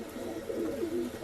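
A male breeding pigeon coos softly, a brief low burbling call rising and falling over about a second.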